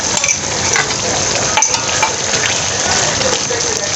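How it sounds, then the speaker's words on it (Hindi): A paste of garlic, onion and yogurt frying in a pot, a loud dense continuous sizzle like heavy rain, with occasional utensil scrapes and clinks, close and with no talk. "अब हम इसको अच्छे से भूनेंगे, इसको अच्छे से भून लेंगे मसालों को"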